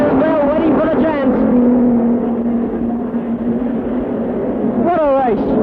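Midget speedcars race wheel to wheel at Sydney Showground in 1965, a steady loud engine drone sustained throughout, with a commentator talking over it.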